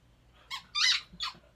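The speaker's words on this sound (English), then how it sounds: "I'm not gonna get your squeaky toy." Three quick rubber squeaks from a dog's squeaky flamingo toy being chewed, close and fairly loud, with short gaps between them and no talking.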